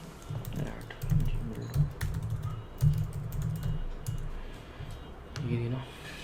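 Fast, steady keystrokes on a computer keyboard as account details are entered into an online form, with clicks continuing under someone talking nearby.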